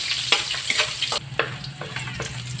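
Garlic frying in oil in a pan while being stirred, a steady sizzle with repeated scraping strokes of the utensil at an uneven rhythm, close and fairly loud, with no talking.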